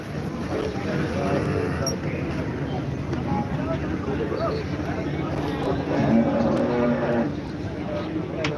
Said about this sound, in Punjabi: ਮੱਝਾਂ ਬਹੁਤ ਚੰਗੀਆਂ ਚੰਗੀਆਂ ਮੱਝਾਂ ਆਈਆਂ ਆਂ